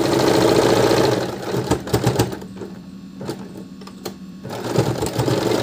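A sewing machine runs in steady bursts while stitching a sleeve seam, with a continuous mechanical whir that pauses briefly in the middle before resuming, close and loud, with no talking.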